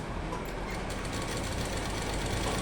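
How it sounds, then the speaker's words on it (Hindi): A sewing machine stitching a pant runs continuously at close range, a steady mechanical whirr with fine rapid rhythm throughout. "फिर हम ऐसे इस पे सिलाई लगा देंगे।"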